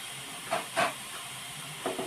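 Washed, drained flattened rice (chira) hits a hot pan, giving short hissing sizzles in a few separate bursts over a low steady background hiss, close and moderately loud.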